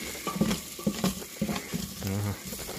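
Ginger frying in a generous amount of oil in a pan, quick crackling sizzle with clinks and scraping from stirring, a few clustered pops and a short rising buzz near the end.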